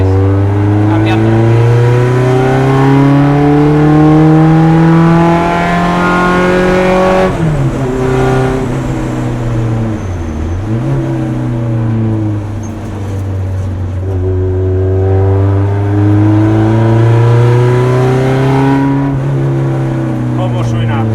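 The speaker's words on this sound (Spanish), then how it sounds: "Qué gozada el oír un coche de carburador de la vieja escuela." An old-school carburetted Renault race car on the Alcañiz track revs loud and close, its engine note climbing and dropping repeatedly through gear changes.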